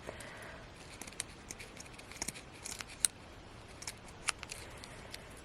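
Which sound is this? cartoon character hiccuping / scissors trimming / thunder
scissors trimming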